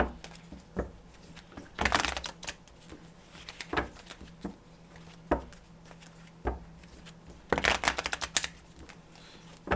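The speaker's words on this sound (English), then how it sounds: "the randomness of the shuffling of the cards" Tarot cards being shuffled close by in repeated riffling bursts, with soft taps and slides between them.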